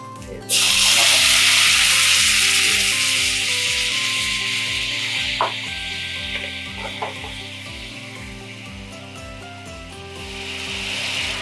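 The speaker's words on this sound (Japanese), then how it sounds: "タレを絡めるように 焼いていきます。 焼くっていうか、ソースの中で、タレの中で、" Yellowtail teriyaki cooking in sauce over high heat, a bright continuous sizzle that starts suddenly and slowly fades over several seconds, with a faint repeating low thump and a couple of utensil clinks underneath.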